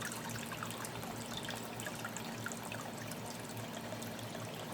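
Garden creek water trickling through a drain, a faint, continuous, even burble and splash with no voices and no changes in level.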